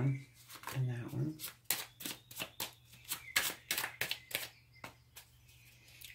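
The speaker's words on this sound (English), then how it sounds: "Last shuffle." A deck of tarot cards is riffled and tapped in a quick run of about a dozen crisp, rhythmic snaps, close to the microphone, while a voice speaks softly over the first part.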